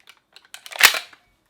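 An HK G3A3 gas blowback airsoft rifle cycles with an empty magazine: a few small clicks followed by one sharp metallic clack and gas hiss, close and brief.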